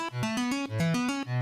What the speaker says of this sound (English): It gets really cool artificial stringy sounds like this.